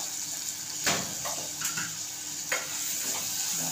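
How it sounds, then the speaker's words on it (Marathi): Chana dal sautéing in a pan for a bottle gourd bhaji, with a steady soft sizzle broken by a few sharp scraping stirs of a spoon against the pan. "चांगली परतून घेते मी त्याच्यामध्ये"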